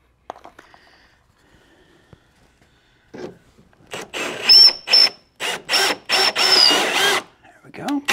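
A power drill drives a greased thread tap into an aluminum off-road rock slider in short, loud, close bursts of whirring with brief gaps, after a quiet start with faint handling sounds.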